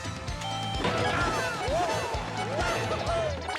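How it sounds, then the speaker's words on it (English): Repeated power smash hammer strikes in Paper Mario: The Thousand-Year Door on Switch, several crunchy impact thuds in a rhythmic sequence over game music, with a person talking alongside. "I'm gonna go for some power smashes instead of power jumps"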